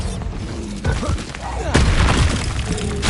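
A Bombarda blasting spell bursts in Hogwarts Legacy, a sudden broadband boom near the middle followed by a second, heavier blast with crackling debris, amid busy game combat noise.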